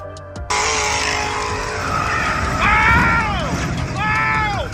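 A Ford Mustang skids at a track before crashing, its tires squealing loudly in long sweeping screeches over a roaring engine, with crowd noise and shouting voices mixed in.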